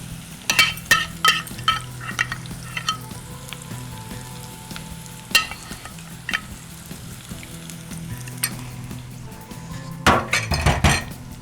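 Leftover onions frying in a pan give a soft continuous sizzle, broken by repeated clinks and scrapes of a utensil against the pan, with a busier burst of clatter near the end.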